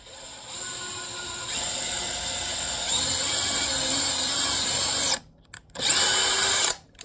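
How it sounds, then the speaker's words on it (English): A power drill whines steadily while boring a pilot hole in wood for a bluebird house, then cuts out and gives one short final burst. "That's why you drill a pilot hole."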